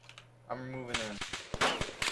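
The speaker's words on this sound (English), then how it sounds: "Now they're just shooting at me constantly." Gunfire in the military game ArmA 2: sharp cracking shots, some close and some farther off, come in irregular bursts over a steady hum, and a voice speaks partway through.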